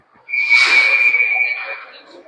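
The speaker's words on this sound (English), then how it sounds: "Is that a duck call over there?" A duck call whistle blown in a hockey arena, one sustained high shrill tone lasting over a second that fades out at the end, heard over a reverberant crowd murmur.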